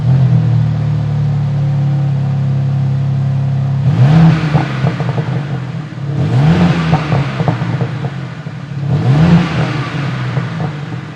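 BMW M4 CSL with a turbocharged engine, heard revving three times in a row: each rise climbs sharply, holds briefly, then drops back to a steady idle between blips, loud and close with no talk.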